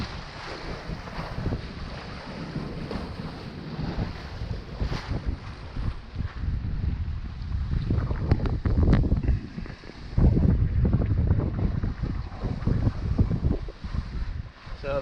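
Sailboat under sail on Lake Michigan in a freshening breeze, engine off: steady rushing wind and water noise with low rumbling wind buffeting on the microphone, waves swishing along the hull throughout, growing louder toward the end.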